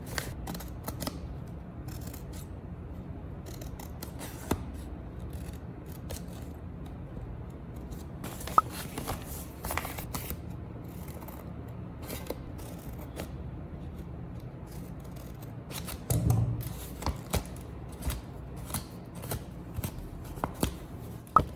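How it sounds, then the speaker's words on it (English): Scissors cut small triangle holes into a paper bag, a quiet run of crisp snips and paper rustles with a short burst of handling near the end. "First, cut small triangle holes on both sides of the paper bag."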